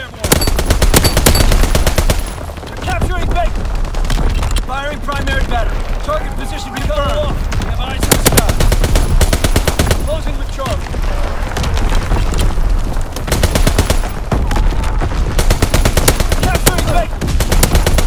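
Heavy anti-aircraft battery firing in a Call of Duty WWII domination match on the Shipment 1944 map, with loud, dense bursts of rapid gunfire and booms running throughout, alongside constant game action and a voice talking.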